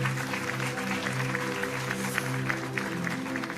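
A church congregation applauds during a service, steady dense clapping over sustained music with a held organ or keyboard chord underneath.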